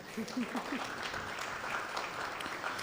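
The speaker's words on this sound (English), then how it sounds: "I think that deserves a round of applause if you all would honor him" A short burst of applause from a modest group at a Columbus Metropolitan Club political forum, with a brief voice at the start.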